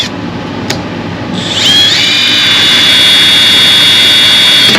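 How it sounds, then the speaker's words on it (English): A power drill clicks, then spins up into a loud, steady high-pitched whine as it bores an 1/8 inch hole through sheet metal on a 2002 Ford F350, close by. "just drill an 1/8 inch hole."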